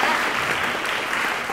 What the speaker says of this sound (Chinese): 那我们再给他一个热烈的掌声